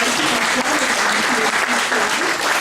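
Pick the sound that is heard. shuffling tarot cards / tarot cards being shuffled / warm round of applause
warm round of applause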